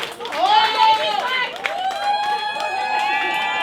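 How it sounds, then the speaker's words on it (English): An audience at a fashion-themed talk show claps and cheers for a guest, a brief burst of applause mixed with whoops and a host's voice talking over it. "Give Miss Shane a round of applause."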